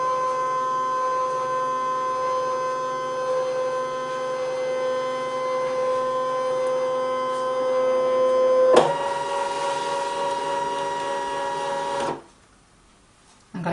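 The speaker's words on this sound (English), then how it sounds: "I'm going to go into Scan, Direct Cut, and just set the machine going." A Brother ScanNCut cutting machine runs a scan, giving a steady tonal mechanical hum with a louder shift near the end before stopping abruptly, leaving near silence.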